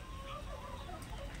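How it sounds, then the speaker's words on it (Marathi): Chickens in a large plastic-wrapped farm shed cluck softly and intermittently while feeding and drinking, a low murmur of several hens fairly close against steady ambient noise. "यामध्ये काही कोंबड्या होत्या."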